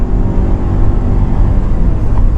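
Engine of a 2014 Nissan Rogue at full throttle in sport mode, heard from inside the cabin as a loud, dense, steady roar and rumble of road and engine noise, with no clear speech.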